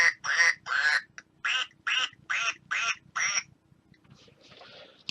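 A toy duck gives a run of eight loud, evenly spaced quacks, then a short burst of softer electronic chatter.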